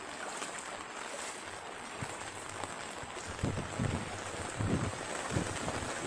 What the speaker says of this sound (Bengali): আবার ঝাঁপিয়ে নামলো বৃষ্টি,